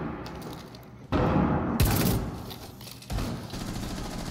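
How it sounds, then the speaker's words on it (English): A breaching charge blowing a hole in a wall in the video game Rainbow Six Siege, a sudden loud blast followed by a second sharp bang and crumbling debris, with gunfire-like bursts around it. "I'm gonna blow a hole in here."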